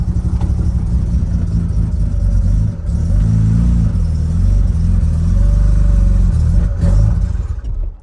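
A rotary-engined car revs steadily while held on a little handbrake, its loud, buzzy engine note droning and rising through two long sustained pulls with a brief dip between them.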